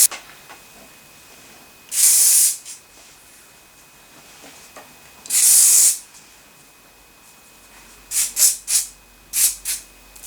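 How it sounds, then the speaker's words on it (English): Hairspray hisses onto hair in two long sustained bursts, then a quick series of short sharp puffs, loud and close against a quiet room. "you want to hold the hairspray away from your face"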